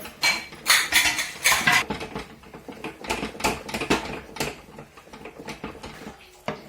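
Spoon clinking and scraping against a pot while flour batter is stirred, a busy run of close metallic taps and rubs. It sounds lively and alone, with no voices.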